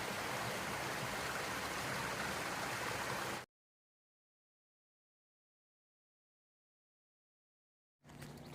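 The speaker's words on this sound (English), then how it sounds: "Good, clear, spring-fed streams" Clear spring-fed stream along the Appalachian Trail, a steady broadband rush of flowing water for a few seconds, then a long silent gap before the flowing sound briefly returns.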